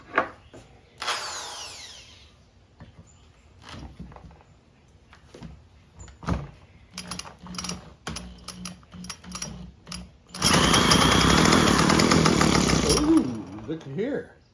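A Craftsman WC 210 small gas engine, primed with the choke on, gives a few sharp pulls and sputters, then a loud buzzing run for a few seconds before cutting out.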